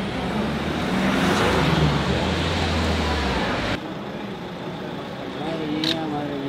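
Busy street traffic rolls past, with a vehicle's engine rumbling close and loud before the roar drops away; people talk over the noise.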